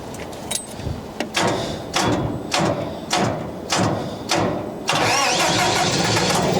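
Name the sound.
ventilation vehicle SVU engine starting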